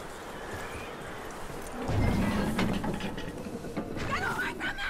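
Horse hooves clip-clopping in the open-world Western video game Red Dead Redemption 2, a steady mid-level patter that rises partway through, mixed with game ambience and a few background voices.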